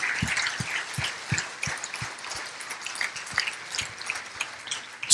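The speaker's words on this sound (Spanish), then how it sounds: "Dale un aplauso al Señor." A church congregation claps sparsely: a dozen or so distinct, scattered hand claps, irregular in rhythm and fairly quiet, in an otherwise hushed room.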